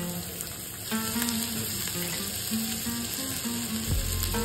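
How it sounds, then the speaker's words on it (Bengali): Chopped garlic and ginger frying in melted ghee in a pan, a close, steady sizzle that stays constant throughout with soft music playing underneath. "ঘিটা ভালোভাবে গলে গেলে তাতে রসুন কুচি আর আদা কুচিটা দিয়ে দিলাম।"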